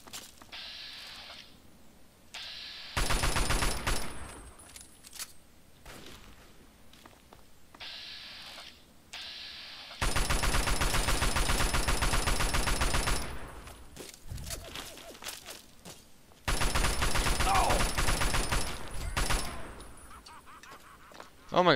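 Sustained automatic gunfire in the Fallout 3 video game, long dense bursts of rapid shots that come in three loud stretches separated by quieter gaps holding footsteps and faint mechanical sounds.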